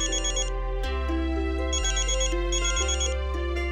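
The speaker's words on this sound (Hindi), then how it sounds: "नायरा फोन देखो।" A mobile phone rings with a repeating electronic melody, loud and steady, looping a short tune with no voices over it.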